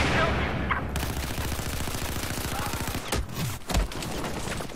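Gunfire rattles through a Battlefield 4 match, a dense burst of rapid shots followed by a few heavier blasts in the game's loud combat soundscape.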